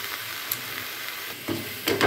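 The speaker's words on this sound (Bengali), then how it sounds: "এটাকে আমি ভালো করে কষে কষে জলটাকে পুরো শুকিয়ে নেবো" Green pea filling being sautéed in a pan to dry out its water, a soft steady sizzle with faint spatula scrapes that grow a little louder toward the end.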